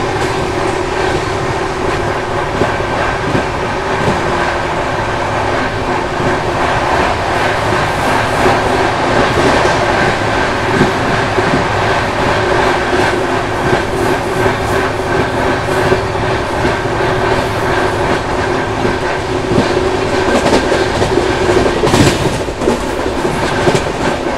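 The Gondwana Express runs along the tracks, heard from inside as a loud continuous rumble with rhythmic clickety-clack of wheels over rail joints and occasional squeals.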